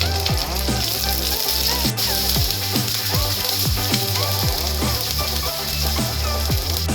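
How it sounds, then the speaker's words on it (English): Onions sauté in a hot pan for Bombay chutney, a steady loud sizzle and crackle with repeated scraping and stirring strokes throughout. "Soon after, add the onions. You may need to saute this for a while."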